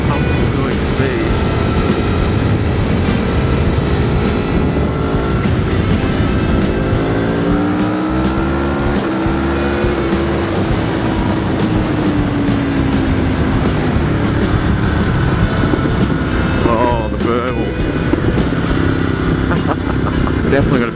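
An Aprilia Tuono V4 1100 Factory motorcycle being ridden, its throaty engine droning loudly and steadily with rising and falling revs under heavy wind rush throughout.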